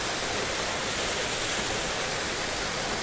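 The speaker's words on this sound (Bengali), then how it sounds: "ওপর থেকে জলটা পড়ছে" Water falling from above at a temple site on a trip near Pokhara, a steady loud broadband rush with no breaks, close by and filling the whole scene.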